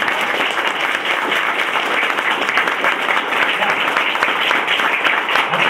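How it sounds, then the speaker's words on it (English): Steady applause from a convention audience at a closing ceremony, dense clapping sustained and fairly loud throughout with no pause. "I want to give you a round of applause"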